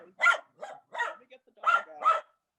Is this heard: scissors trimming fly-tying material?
no